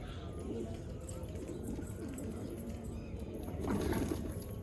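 Pet pigeons coo softly in repeated low throaty calls, fairly faint and continuous against a light background hum.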